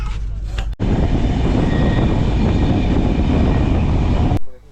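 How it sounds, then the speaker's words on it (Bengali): A long-distance train pulls into Srikakulam Road station, a loud, close, continuous rumble of wheels and carriages that cuts in abruptly and fades at the end. "ট্রেন এলো শ্রীকাকুলাম রোড স্টেশনে।"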